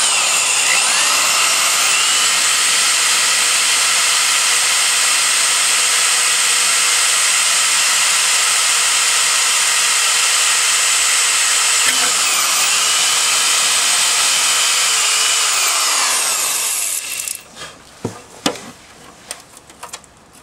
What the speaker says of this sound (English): I drilled the holes